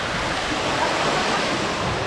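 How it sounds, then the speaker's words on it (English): Rushing water fills the lazy river at Blizzard Beach water park, a steady close wash of broadband splashing with no break, without any voices. "And we're here in the lazy river, raftless."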